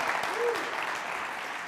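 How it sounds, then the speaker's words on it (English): Audience applause and cheering fill a TED Talk hall, a dense, steady wash of clapping with a faint voice rising over it, the whole at moderate volume. "Will there be applause and cheers and roars?"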